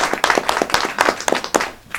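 Studio audience clapping during a television talk show, a loud, close burst of individual hand claps with uneven rhythm and some voices mixed in.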